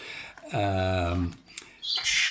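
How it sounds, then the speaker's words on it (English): A baby jackdaw's harsh, drawn-out squawking call, close and loud, followed by a brief scratchy squeak and a short rasping burst. "This is a baby jackdaw, obviously, by the sound of it."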